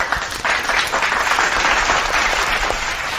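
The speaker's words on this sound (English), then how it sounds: "Did we give all the viewers a round of applause?" A round of applause from a group rings out during a live stream, dense steady clapping that holds at an even, loud level throughout without speech over it.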